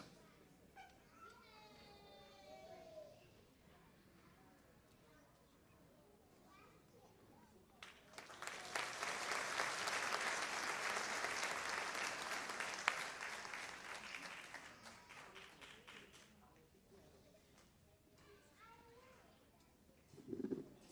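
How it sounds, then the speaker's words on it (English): A large audience applauds students at a master's degree hooding and honors ceremony, a dense, sustained burst of clapping that swells in the middle and fades, with children's voices and chatter before and after. "one more round of applause for our students"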